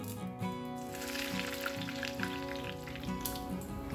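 Mustard seeds and curry leaves crackle and sizzle in hot oil for a moong dal dhokla tempering, a steady close frying hiss with scattered pops and no talk.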